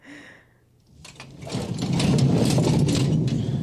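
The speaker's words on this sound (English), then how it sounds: "That was the sound of a tool chest falling down the stairs." In a Home Alone 2 movie scene, a tool chest tumbles down a staircase: a quiet lead-in builds into a loud, sustained clattering crash of metal and wood that continues to the end.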